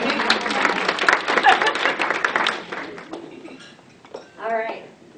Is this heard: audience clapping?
yes